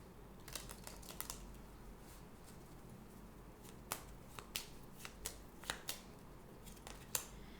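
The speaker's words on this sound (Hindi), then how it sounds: "Let's get one Divine Doors Oracle card." Divine Doors oracle cards being shuffled and drawn, faint soft riffling with scattered sharp card snaps and flicks at irregular intervals in a quiet room.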